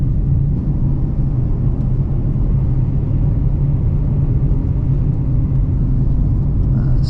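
Dodge Challenger R/T driving on a snowy road, heard from inside as a constant loud, low rumble of engine and tyre noise with no clear changes in pitch.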